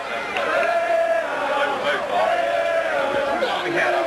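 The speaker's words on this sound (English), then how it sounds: "an overflow crowd, and people just continue coming into the stadium tonight" An overflow crowd fills a baseball stadium at a state championship game, a steady murmur of chatter running beneath a close announcer's voice.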